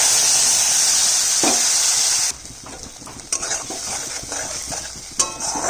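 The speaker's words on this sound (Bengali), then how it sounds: "মশলা একটু ভালো করে কষিয়ে নিচ্ছি" Spice paste for a vegetarian soybean curry sizzles loudly in hot oil and is then stirred and scraped with a spoon in irregular strokes that drop to a softer sizzle, close up, with no talking.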